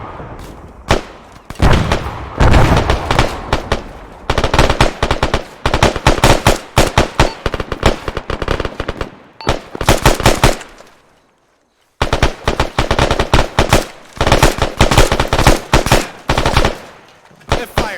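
Rapid bursts of automatic gunfire in a military squad training video game, loud and close, stretching across several long strings with one brief pause, under occasional radio-style voices.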